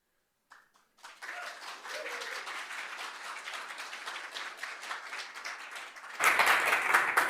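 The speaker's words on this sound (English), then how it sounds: "please give a big applause to Suzannah, who is here from Brisbane." An audience at a developer conference talk applauds as a speaker is introduced, a dense steady patter of clapping that swells and grows louder toward the end.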